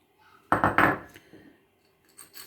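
Fruit chaat ingredients, including dates, raisins and pomegranate, tossed in a bowl, giving a couple of close clinking scrapes of a spoon against the dish, then quieter rattles trailing off.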